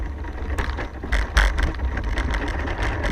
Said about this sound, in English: we're on to the scooter now